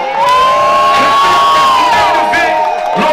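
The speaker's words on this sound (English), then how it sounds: "clap it up, y'all." A crowd at an emcee rap battle event cheers and whoops loudly, with sustained shouting and high yells filling the space, close and dense throughout.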